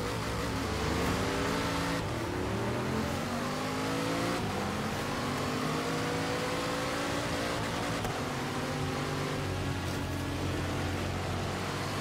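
A Chevy Impala SS 409 race car in Forza Horizon 3, its engine revving up and down through six gears in repeated rising sweeps, loud and close with no talk.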